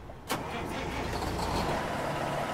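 A Peterbilt 388 truck with a Detroit DD15 engine in American Truck Simulator cranks and fires up, then settles into a steady, rumbling idle alone.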